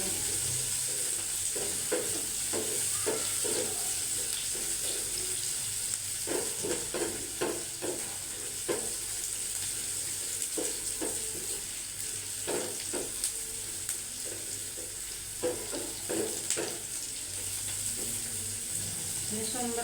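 Onions frying in oil for a bhuna, a continuous loud sizzle broken by repeated scraping stirs of a spoon against the pan, spaced irregularly across the whole stretch.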